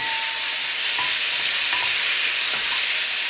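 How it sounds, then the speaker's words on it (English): Loud continuous sizzling of chicken browning in a hot pan without oil, with a few soft scraping stirs, no voices. "I hope you can hear this over the sizzle."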